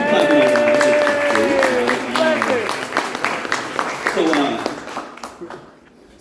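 Audience clapping at a university spoken-word poetry event, rapid crowd applause with cheering voices and a whistle-like tone rising over it, then thinning out and fading toward the end.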